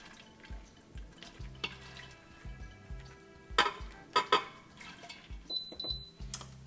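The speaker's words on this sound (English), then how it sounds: "Let's go ahead and get the dal in the pressure cooker and get that started." Kitchen clatter while dal goes into a pressure cooker: scattered metallic knocks and clinks of pots and utensils, intermittent and moderately close, with faint water drips between them.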